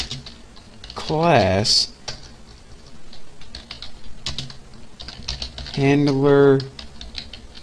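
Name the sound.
typing Java code on a computer keyboard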